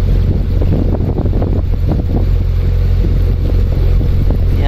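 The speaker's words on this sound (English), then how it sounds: "Cruising at 1400 RPM, probably 4-5 knots." A narrowboat engine cruises at 1400 RPM, a steady low throbbing drone heard close and continuous beneath wind noise buffeting the microphone.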